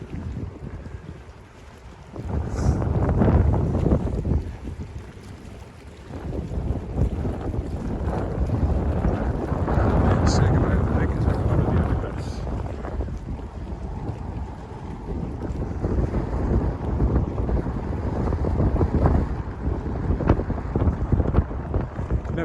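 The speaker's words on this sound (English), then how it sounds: "Getting back into the wind here." Strong wind gusting across a lake shore whipping up whitecaps, roaring and buffeting the microphone steadily for the whole stretch with louder surges.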